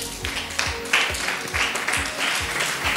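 A church congregation claps and cheers for the Lord at a Bible school graduation ceremony, a dense burst of applause with rhythmic clapping, heard from a moderate distance.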